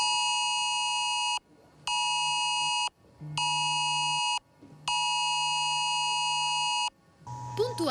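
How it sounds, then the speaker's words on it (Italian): Mobile phones sound the IT-Alert emergency test tone in the Veneto region, loud, steady electronic beeping that comes in four long bursts separated by short gaps, followed by a voice at the end. "oggi tutti i cellulari del Veneto hanno ricevuto il messaggio test di IT Alert"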